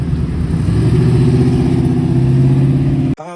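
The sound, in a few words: car engine revving at car show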